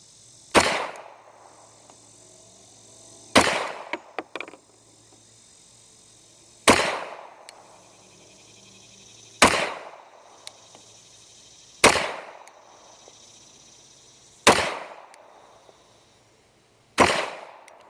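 Seven sharp gunshots from a Remington Rand copy of a 1911 pistol ring out at a steady pace of roughly one every two to three seconds, loud and close, each one trailing off into a short echo, with a few faint clicks between shots.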